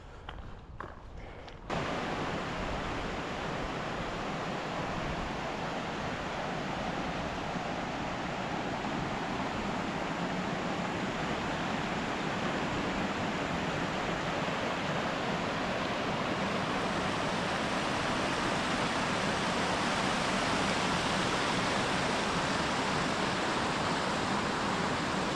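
A woodland waterfall heard through the trees along the Bruce Trail, a steady loud broadband rush of falling water that stays constant throughout after a brief quieter start.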